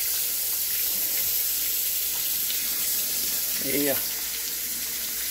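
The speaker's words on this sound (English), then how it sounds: "I'm gonna wash my paws real quickly." Hands being washed under a running kitchen tap after rubbing a pork butt for barbecue: a steady, loud hiss of water throughout, with a brief splashing change near the end and a short spoken word.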